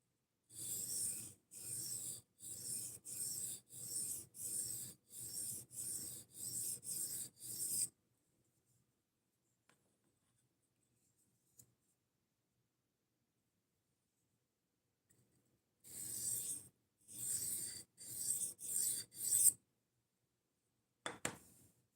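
A knife blade is drawn across a sharpening stone in quick, even rasping strokes, about a dozen in a row, then silence, then another run of half a dozen strokes, close and alone.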